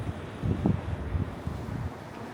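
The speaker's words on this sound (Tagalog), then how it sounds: "Lakas ng hangin dito." Strong wind in Seattle, Washington gusting steadily across an outdoor microphone as a broad, low rumble that swells around the middle and eases slightly toward the end, with no voices.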